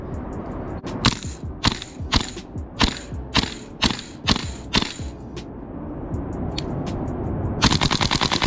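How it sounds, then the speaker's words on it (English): Airsoft gas blowback gun firing a run of about nine sharp single shots with mechanical clacks, close and loud, followed by a rapid burst at the end. "Doesn't shoot very fast, but it kicks very nicely."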